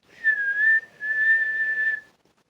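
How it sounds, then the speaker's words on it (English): A whistle blown twice in a row, a steady high-pitched tone with a short break between the two long blasts, clear and close. "said the frog and blew his whistle"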